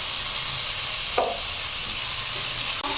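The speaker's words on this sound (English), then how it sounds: "we are going to give this a good stir" Washed rice being stirred in a hot pot, a continuous sizzling hiss with a couple of brief scraping clicks from the spoon, close and fairly loud.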